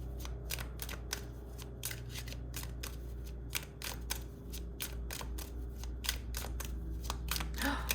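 Tarot cards being shuffled with quick riffling flicks, repeated in a steady patter, close and fairly quiet over a low background hum.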